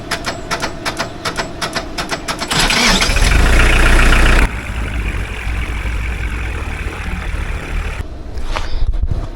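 A Mahindra tractor with a faulty starter cranks in rapid clicking bursts, then catches with a louder rumbling surge and settles into a steady close idle.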